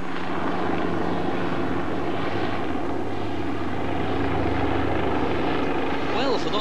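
Constant loud engine and rotor drone of a helicopter flying over Glastonbury Tor, heard from inside the cabin, with someone talking over it.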